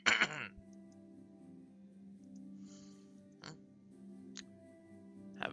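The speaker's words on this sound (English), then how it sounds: "Sorry if I'm coughing a bit." One harsh, close cough bursts out at the start, followed by a few fainter throat noises over a low steady hum.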